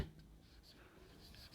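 Chalk or marker scratching on a board during a chemistry lesson on atomic structure, a faint, steady scraping that runs quietly throughout.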